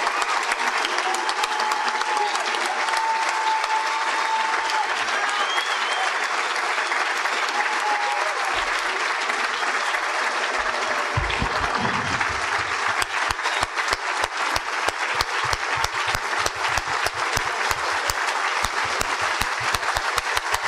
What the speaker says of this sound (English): Let's give one last round of applause to this panel.